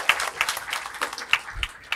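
An audience claps in applause for fire brigade personnel at a public service award ceremony, a brief burst of scattered hand claps at moderate distance.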